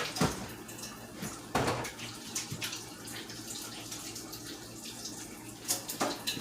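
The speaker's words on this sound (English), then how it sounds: "I'm going to wash my hands real quick so we can move on." Hands are washed under a running kitchen tap while a teriyaki chicken meal is being cooked, giving a steady, soft rush of flowing water with a few louder splashes.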